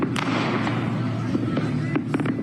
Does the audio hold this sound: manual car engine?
no